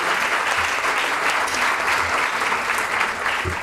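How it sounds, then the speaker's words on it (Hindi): An audience at a student organisation's entrepreneurship event claps during a welcome and flower presentation, a loud, dense and continuous round of many hands, unbroken for the whole stretch. "तालियां बजनी चाहिए।"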